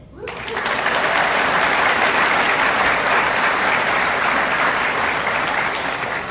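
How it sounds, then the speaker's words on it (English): Audience at a military unit activation ceremony clapping, a dense sustained round of applause that starts abruptly and holds steady, loud and close. "Round of applause."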